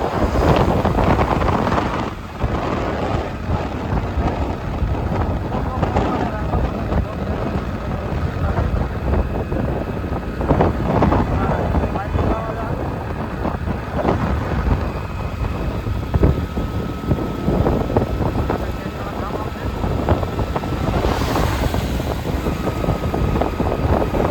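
A steady, loud engine rumble with heavy wind buffeting against the microphone, continuous throughout like riding along on a motorbike.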